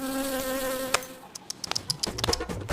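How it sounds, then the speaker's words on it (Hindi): Mosquitoes buzz indoors during Diwali, a thin steady whine at first, then scattered faint buzzing over patters and small bumps, with no voices. "मच्छर आएंगे घर में"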